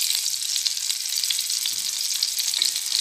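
Ginger garlic paste sizzles in hot oil with cloves and bay leaves, a dense steady crackling hiss with small popping spits throughout, close and continuous with no talk.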